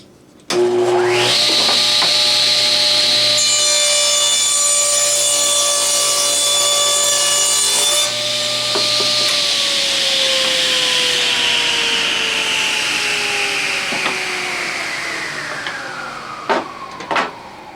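Table saw ripping a small wooden plank in half: a loud, steady motor whine rises as the blade spins up, holds through the cut, then winds down, with no talking.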